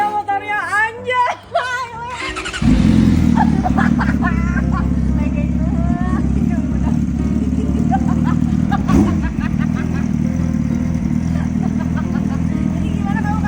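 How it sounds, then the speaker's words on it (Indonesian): A big motorcycle engine idles loud and close with a steady low rumble, continuing for most of the clip. It starts after a short burst of voices, and a crowd chatters faintly behind it. "dan ini dia motornya"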